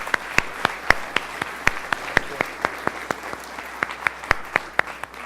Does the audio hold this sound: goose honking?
no